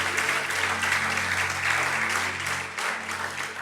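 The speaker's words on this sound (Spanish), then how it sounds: "Dale un aplauso al Señor de gloria." Church congregation applauding during a Sunday service, a dense, steady burst of clapping filling the room for a few seconds, with faint voices underneath.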